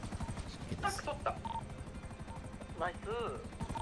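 A helicopter in the video game GTA keeps up a steady rotor chop close by, with people talking over it throughout.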